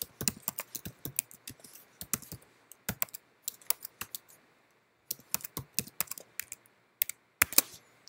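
Fingers typing on a computer keyboard, close and fairly quiet, in quick irregular bursts of clicking keystrokes separated by short pauses, with no voices.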